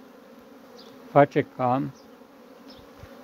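Honeybees buzz at willow blossoms gathering pollen and nectar, a steady low drone running throughout as someone speaks briefly in the middle.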